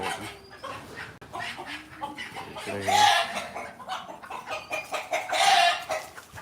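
A flock of hens with a single rooster clucks and calls close by, hens bickering in bursts with louder squawks standing out, busy farmyard clatter throughout.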